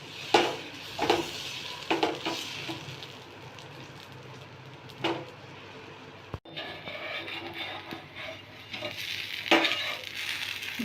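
A ragi (nachni) dosa roasts golden and crisp on a hot pan, a soft sizzle carrying intermittent sharp clinks and scrapes of a utensil against the pan, with quieter gaps between.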